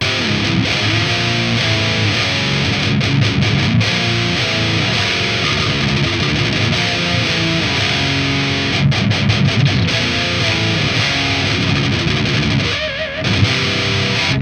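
Heavily distorted electric guitar chugging and ringing chords through an Engl Powerball amplifier in crunch mode, loud and continuous, with a brief dip near the end.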